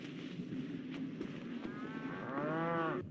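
Cattle in dry pens after a wildfire give a drawn-out moo that swells toward the end, fairly close, over a faint background rumble.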